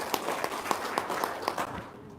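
A few people clap hands in a loose, uneven rhythm of distinct claps, moderately close, for a couple of seconds and then fading.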